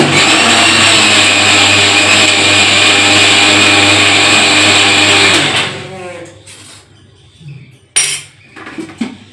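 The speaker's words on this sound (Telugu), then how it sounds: "చట్నీ రెడీ చేసాను, దాన్ని మిక్సీ పట్టేస్తే నాకు చట్నీ పని కూడా" A mixer grinder whirs loudly and steadily while blending tomato onion chutney, then stops abruptly and is followed by a few clinks and handling noises.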